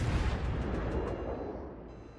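Heavy naval guns of a warship boom in World of Warships: Legends, a single loud, deep blast that rolls off into a fading rumble over about two seconds.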